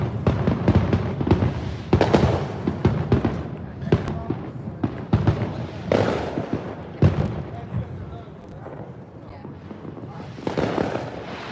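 Fireworks set off at home on the Fourth of July, a run of sharp booms and crackling bursts at irregular intervals, some loud and close, others farther off, with voices talking faintly in between.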